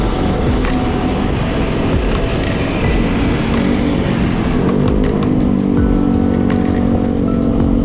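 Motorcycle riding through traffic on a food delivery run, overtaking other vehicles, with a steady loud engine drone and road noise throughout, close and continuous.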